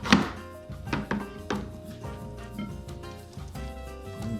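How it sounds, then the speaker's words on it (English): Knife chopping onions on a cutting board, several close, sharp thunks at an uneven pace, the first one loudest. "gonna chop it just right there."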